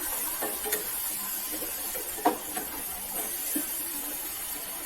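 Tofu dish ingredients are sautéed in a pan, with a steady soft sizzling hiss and a few light scraping stirs.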